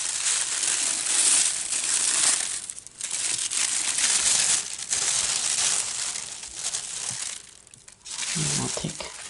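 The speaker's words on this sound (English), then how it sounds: "White tissue paper." White tissue paper crinkles and rustles close up while a paper craft kit is unpacked, continuous crumpling with brief pauses.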